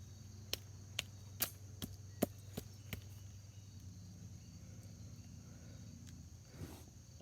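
A Fin Hawk knife strikes wood outdoors, scraping and chopping at bark in a series of sharp, evenly spaced clicks that fade out. A steady low hum from the surroundings continues after the strikes stop.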